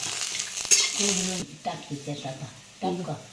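Coconut roasts in a pan while being stirred, a brief burst of dry sizzle and scraping at first, then someone talks over quieter pan sounds.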